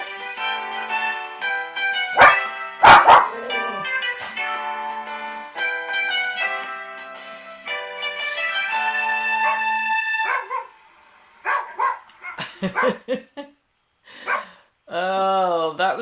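Several dogs barking and yipping in repeated bursts, some near and loud, with whining in between and pauses of near silence, while a voice talks over parts of it.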